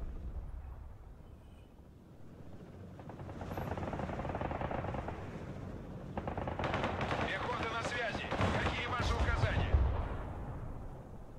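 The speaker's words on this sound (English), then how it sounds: "Fire these artillery at them." Artillery fire from the Broken Arrow military strategy game: a sustained run of heavy booms and rapid blasts that builds from a low rumble into dense, loud volleys, with faint talk beneath.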